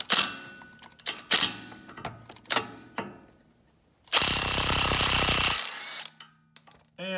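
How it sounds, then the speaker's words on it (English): An impact wrench spins off a tie rod nut on a 2002 Acura TL-S, opening with several short sharp bursts before one long loud hammering run, then dying away to quiet clinks. "we can use our impact and try to get the rest of the way off"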